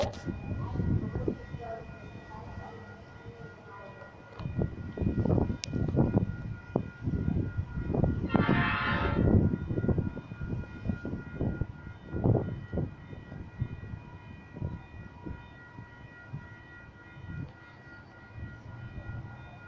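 A Sydney train on a North Sydney service rumbles and clatters into Clarendon station with rhythmic wheel thumps, and a brief high-pitched horn or brake squeal sounds midway; some voices nearby.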